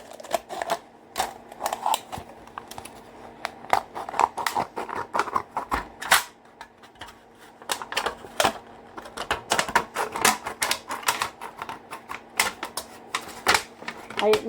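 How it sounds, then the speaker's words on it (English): Scissors snip along a nutritional value label on a drink can in a run of quick, sharp, close cuts with small pauses between them. A faint steady hum sits underneath, and a voice is heard briefly. "When I cut along the nutritional value label."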